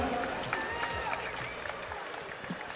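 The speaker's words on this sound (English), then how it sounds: "round of applause" Fight-night crowd at an Infliction Fight Series bout applauding the two fighters, a moderate, fairly distant wash of clapping with a few crowd voices and whistles mixed in.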